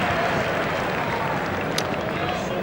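A cricket crowd at a South Africa versus Sri Lanka test match lets out a steady, broad roar of cheering and applause after a batsman takes a single, a continuous wash of distant crowd noise without any clear separate claps.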